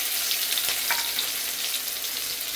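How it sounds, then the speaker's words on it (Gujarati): Chopped green onions sizzle in hot oil for a sambar tempering, a loud, close, continuous frying hiss with no voices. "લીલી ડુંગળી ઘડીક વાર સસડે એટલે તરત જ આપણે એમાં આ દાળનો વઘાર કરી લેવાનો છે"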